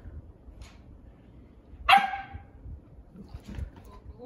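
A new female puppy gives a single sharp, loud bark near the middle, with faint yips and whimpers around it over quiet background noise.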